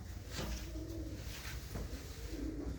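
Pigeons coo in low, throaty rolls, several overlapping calls close by over a constant background rumble.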